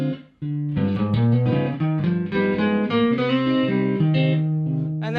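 Altered-chord harmony sustains while a Super Locrian line moves over it in a steady run of melodic notes, loud and close, with no talking.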